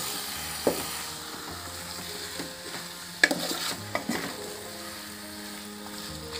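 Chicken curry with masala is stirred in a pan over a soft, steady sizzle, with a few clear spoon scrapes and knocks against the pan at irregular moments, close by and without talk.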